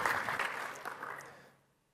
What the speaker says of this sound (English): Folks, a round of applause for Dave Bartoletti.